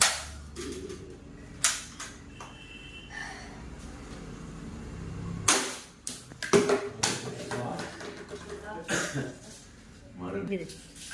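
Toy AK-47 rifle, a Kalashnikov replica played with by a father and son, fires several sharp snapping pops spaced irregularly, close and loud, with talking in between.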